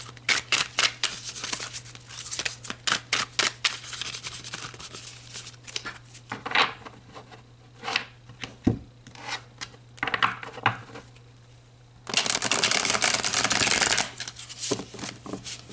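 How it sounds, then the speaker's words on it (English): Tarot cards are shuffled and drawn in a series of quick riffling bursts and soft slaps of card stock, with pauses between, ending in a longer, dense stretch of continuous shuffling near the close. "let's pull you some more cards"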